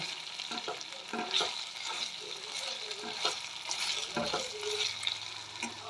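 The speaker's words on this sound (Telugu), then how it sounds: "ఒక చెంచా అల్లం వేస్తున్నా బాగా కలపాలి మంచిగా పచ్చివాసన పోయే వరకు" Ginger stirred and fried in a pan for a Telugu dried-fish curry, a soft continuous sizzle broken by repeated scraping stirs of a spoon against the pan, close and fairly quiet.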